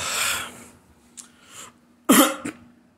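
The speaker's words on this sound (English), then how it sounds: "I gotta clear my throat a little" A man clears his throat in a few rough bursts: a longer rasp at the start, two faint catches, then a sharp loud hack followed by a short final one, close to the mic.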